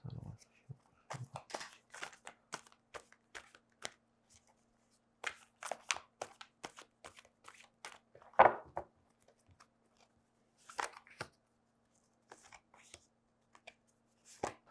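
Tarot cards are shuffled and laid out in scattered bursts of crisp rustling and snapping, separated by quiet pauses, close to the listener.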